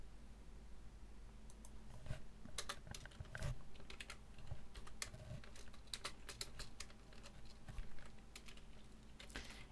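PHP code is typed on a computer keyboard in quick, uneven bursts of close, crisp key clicks over a soft constant hum, with no speech.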